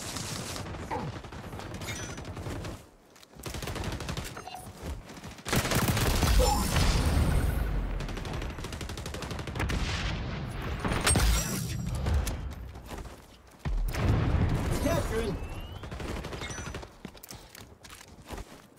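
Gunfire in a video game shooter during a capture-zone match: dense bursts of shots and explosive impacts come in loud waves with brief lulls between them, alongside scattered footsteps-like clatter.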